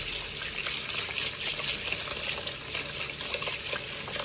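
Rose petals rinsed in running water, a steady close splashing and trickling that carries on evenly throughout with no voices.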